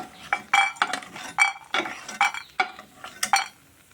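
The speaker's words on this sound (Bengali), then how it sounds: "এখন বড়িগুলি আমি তুলে দিচ্ছি।" Spoon or slotted ladle scraping and clinking against a pan while fried lentil badis are lifted out of the oil, a series of sharp metallic scrapes and taps in an irregular rhythm with faint sizzle, no talk.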